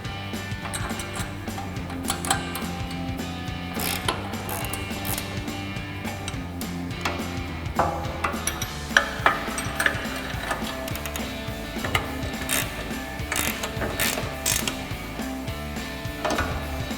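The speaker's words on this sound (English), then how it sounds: "Then we'll use our 17mm ratchet wrench and 17mm wrench to tighten down our pivot bolts." A 17mm ratchet wrench clicks steadily while pivot bolts are tightened on an aftermarket RedRock TCX HD front bumper for a 2021-2023 Ford F-150, repeated ratcheting ticks and metallic clatter close up with no talk.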